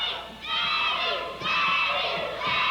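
A 1987 IWA Carolinas wrestling crowd jeers a wrestler in loud, sustained chanting waves, rising in two or three surges with shouting voices mixed in.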